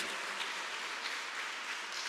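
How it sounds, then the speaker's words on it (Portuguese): Congregation applauding in a church service, a steady, even wash of many hands clapping at once, sustained and fairly distant, with no voices standing out. "Dá uma salva de palmas,"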